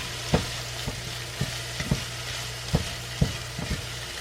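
Red beans simmering with garlic, thyme and two bay leaves in a pot, a constant sizzling bubble with a low hum beneath and several sharp clacks of a spoon against the pot, close by.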